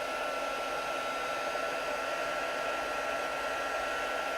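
Heat tool blowing steadily to melt embossing powder on a paper craft pattern, a constant loud whooshing hiss with no pauses.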